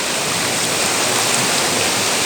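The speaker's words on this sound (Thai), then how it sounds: "น้ำเป็นน้ำไหลน้ำตก" Water pours steadily down a waterfall in a broad, even rushing hiss, close and loud throughout without pause.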